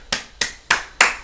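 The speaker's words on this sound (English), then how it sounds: "Yeah, 3 second clap for that." Four sharp hand claps spaced evenly about a third of a second apart, close and crisp in a quiet room, with no voices.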